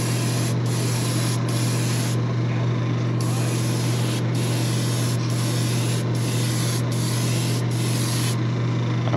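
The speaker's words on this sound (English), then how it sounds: "Just spraying from the top, trying to let the overspray come down the sides." A steady airbrush hiss, spray painting a shad glide swimbait lure, runs continuously, broken by short regular pauses as the spray is stopped and restarted, with a low constant hum beneath.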